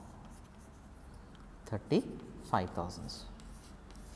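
Writing scratches and rubs across a board during an accounting lesson, a faint continuous scraping with a voice speaking briefly over it.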